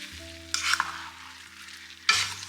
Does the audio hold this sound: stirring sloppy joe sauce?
yes